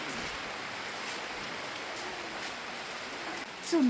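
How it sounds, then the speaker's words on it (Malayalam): Heavy rain falling outdoors during a family outing, a steady hiss of dense drops at moderate volume throughout, with a faint voice briefly near the end. "നല്ല മഴയാണ് ഗൈസ്."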